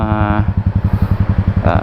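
A Yamaha SR400 single-cylinder motorcycle, freshly overhauled with a Wiseco 88mm piston, idles in neutral at around 1,000 rpm, a loud close steady thumping with brief voices at the start and end.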